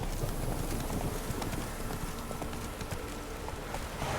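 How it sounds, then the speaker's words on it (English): A horse gallops in The Witcher 3 video game, a fast, steady clip-clop of hooves close up over ambient game sound. "Santa, should I get on my horse, Santa?"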